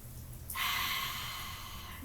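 One deep breath drawn in during a kids' volcano-and-dinosaur yoga session, a close, airy inhale that starts abruptly and holds steady as a soft rush of air for over a second.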